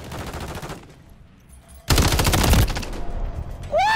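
Bursts of rapid automatic gunfire in an online shooter game, a loud sustained volley breaking in after a quieter stretch of distant shots, followed by a rising whine at the end.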